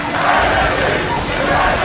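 Loud, dense crowd roar at an esports League of Legends match involving G2, sustained cheering and shouting throughout without a break.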